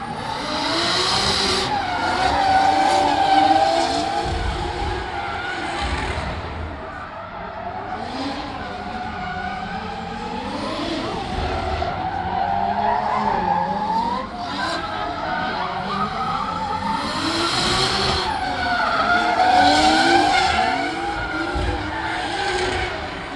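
Cars, including a BMW M3 with a Toyota Supra turbo engine, drift at a motor show with sustained, wavering tire squeal and roaring, revving engines, loud and continuous, the pitch sliding up and down through corners.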